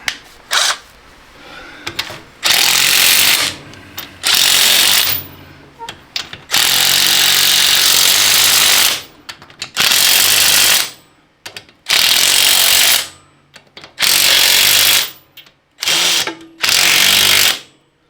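Tools tightening fittings on a pulling tractor during maintenance, a string of loud mechanical bursts, several seconds each, separated by short pauses, close to the microphone.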